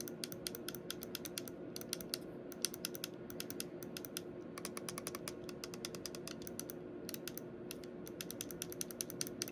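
The ABXY buttons on an ROG Xbox Ally handheld are pressed over and over in quick bursts, giving sharp, close, crisp clicks over a quiet background with no speech.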